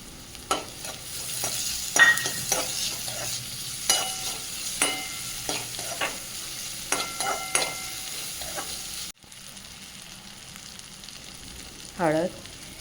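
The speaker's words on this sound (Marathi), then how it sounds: "त्याला सोनेरी रंग येऊपर्यंत आपण 2 ते 3 मिनिट नीट परतून घ्यायचं।" Chopped onion stirred and sautéed in a pan for a spiced drumstick vegetable curry, with a steady low sizzle broken by repeated scraping stirs of a spoon; a short voice-like sound comes near the end.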